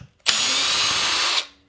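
A power driver whirs for just over a second as it backs a screw out of an RC car, a sharp, high spin that starts abruptly and winds down quickly, close and loud.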